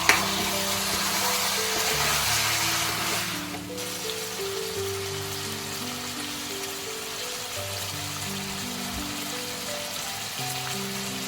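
Curry is slowly mixed in oil in a pan, a soft, steady hiss and gentle sizzle under a layer of sustained background music.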